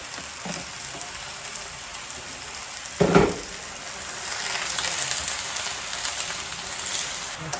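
Sardines and vegetables fry in a pan with a continuous close sizzle. A brief louder burst of spattering comes partway through, and then the hiss swells slightly.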